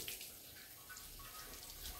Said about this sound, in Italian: quindi sciacquiamo diverse volte finché l'acqua appunto non è pulita